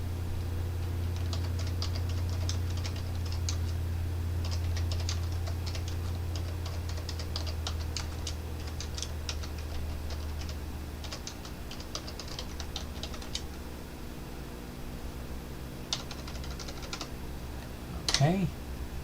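Rapid clicking of keys on a computer keyboard in uneven bursts, close by, over a low steady hum, with a short voice near the end.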